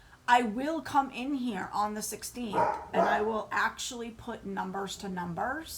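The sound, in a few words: German Shepherd dog barking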